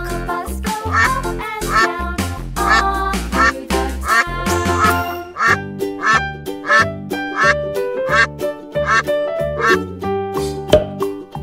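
A duck quacks repeatedly in a bright children's colour-learning piece, the rhythmic, honking calls loud and close over a tuneful, music-like background.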